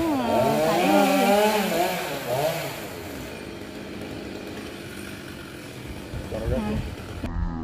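A chainsaw revs loudly and cuts the top off a coconut tree, its engine whine rising and falling, then settles to a lower idle with rustling and a brief final rev.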